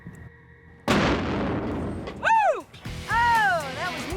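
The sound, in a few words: black powder bomb exploding against concrete in truck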